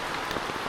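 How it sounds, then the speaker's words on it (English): Heavy rain pours down outdoors in the Philippines, a dense, steady hiss of water drumming on surfaces, loud and unbroken for a brief moment with no voices. "Absolutely pouring it down now, like a full-on rainstorm."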